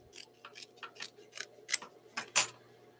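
Scissors trim fabric at a sewing machine with about eight quick crisp snips at an irregular pace, the last few louder, over a faint steady machine hum.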